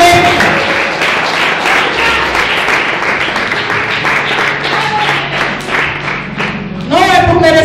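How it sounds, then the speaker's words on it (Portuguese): A church congregation at a Holy Communion service applauds loudly and steadily for several seconds, dense clapping filling the hall, while music or voices continue underneath throughout. "Aplaude o Senhor."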